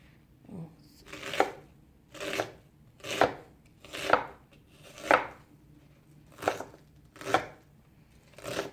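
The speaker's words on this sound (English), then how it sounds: "Look, onion to be chopped." An onion is chopped with a knife on a board in a home kitchen, about eight crisp, evenly spaced cuts in a steady rhythm, close and clear, with no talk over them.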